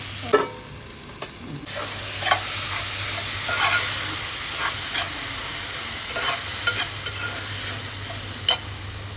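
Curry is stirred in a cooking pot, giving a continuous sizzle broken by repeated scraping and clinking strokes of a spoon against the metal, with a low steady hum underneath and no talking.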